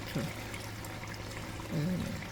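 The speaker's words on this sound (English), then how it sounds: "Let me tip a little bit of water in there for the salt." Water tipped into a pot of Jamaican brown stew chicken, two short pours splashing into the pot, fairly quiet against a steady kitchen hum.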